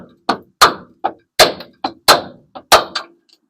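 A hammer strikes a brake hose part on a 1996 Ford F-150 about nine times in an uneven rhythm, each blow a sharp, loud, close metallic thwack with brief quiet gaps between.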